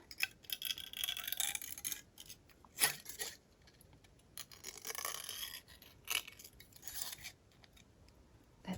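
Scissors snip through a thin aluminium drink can in a few short, crisp cuts with scraping metallic rustles between them, close and fairly quiet, with no talking.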